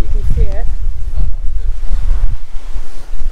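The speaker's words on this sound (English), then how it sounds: "Look at the waves in the bay." Wind and rough waves in a bay off Miami make a loud, gusty roar of wind buffeting the microphone over churning water, with a person speaking briefly near the start.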